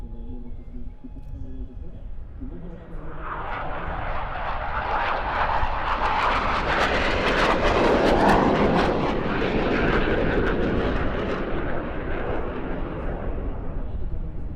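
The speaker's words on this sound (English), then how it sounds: "we're going to see the plan form of this photogenic little jet" A Leonardo M-346 jet trainer flying a demonstration at an airshow roars past, swelling to a loud, broad jet rush and then holding steady as it moves away.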